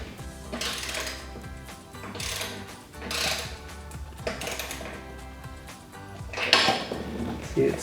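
Metallic clinks and ratcheting clicks while the final nut is tightened on a RedRock molded ABS side step bar on a Jeep Wrangler TJ, coming in irregular bursts with pauses between turns.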